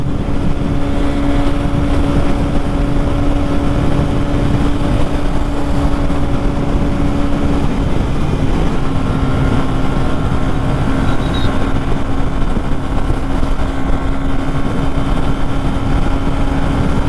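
Motorcycle riding along a road on a group ride toward the Aravalli hills, a steady loud engine drone with heavy wind rush across the whole stretch, no pauses.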